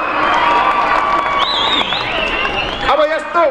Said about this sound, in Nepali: मन पर्यो जोरदार ताली मार्नुहोस्